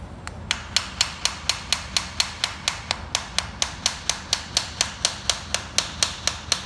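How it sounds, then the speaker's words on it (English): Investment stone is tapped off an acrylic partial denture with a fast, steady run of sharp, close knocks, about four per second and evenly spaced, with no talk. "You can hear the different change in the sound as the stone is starting to break away and peel away."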